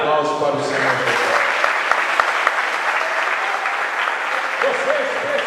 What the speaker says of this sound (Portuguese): dê um aplauso para o Senhor Jesus